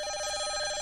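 A cartoon telephone rings, a bright steady electronic trill heard briefly and alone at moderate volume.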